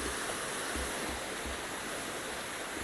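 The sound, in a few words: waterfall flowing in a video game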